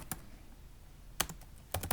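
Short bursts of typing on a computer keyboard: a single keystroke, a pause, then clusters of crisp clicks near the mic against a quiet room.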